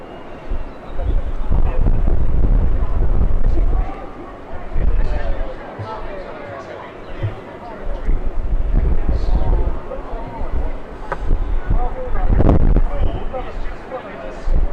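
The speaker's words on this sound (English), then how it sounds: "I'll wait for the wind to settle." Gusty outdoor wind buffets the microphone as a low, rumbling roar that swells and eases in waves throughout, with a person talking over it.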